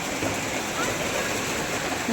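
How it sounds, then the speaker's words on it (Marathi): A loud, unbroken roar of cloudburst rain in Pune pouring down close by, like rushing water, with a voice faintly audible beneath it. "किती पाऊस आहे कंटिन्यू ना"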